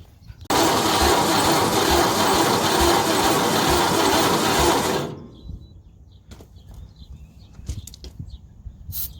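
A damaged engine cranks loudly and steadily for about four and a half seconds and then cuts off, leaving quiet with a few scattered clicks and bumps.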